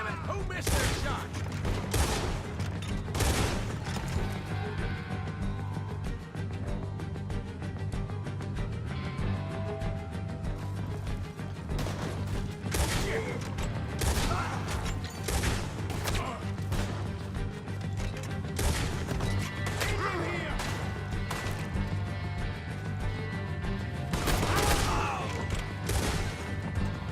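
Red Dead Redemption 2 gunfight, with repeated loud gunshots and crashing impacts in irregular bursts over a steady background rumble, and voices talking at times between the shots.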